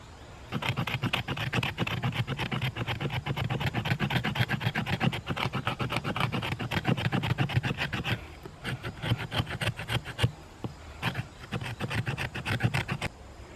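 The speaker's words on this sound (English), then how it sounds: "Doesn't take long to process down some finer shavings using that 90-degree spine." The 90-degree spine of a L.T. Wright Gary Wines Bushcrafter knife scraping wood into fine shavings, a dense rapid rasping that runs steadily, then breaks into shorter strokes near the end, close and alone.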